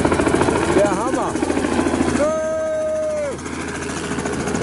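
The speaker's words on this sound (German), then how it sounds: "Die Hubschrauber." A helicopter over the Pacific off Nuku Hiva in the Marquesas: rotor thumps and engine drone fill the background, with voices talking over it and a brief tonal whine partway through.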